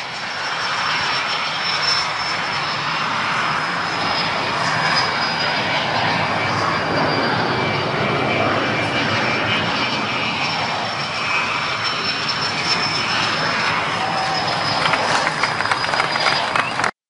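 An Argentine-built Pampa III jet trainer from FADEA in Córdoba runs its engine, producing a loud, continuous roaring whine with a steady high tone that persists for the whole stretch.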